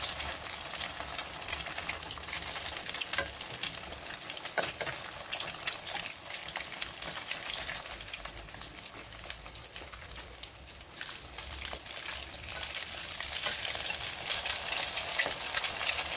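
An eggplant omelet sizzles steadily in a frying pan, a close, continuous crackle and spatter with no talking.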